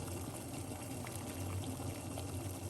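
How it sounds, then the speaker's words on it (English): Water bubbles and rumbles at a steady rolling boil, a constant close churning with no voices. "The water is boiling."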